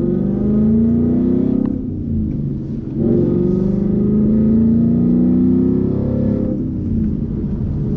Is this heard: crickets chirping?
no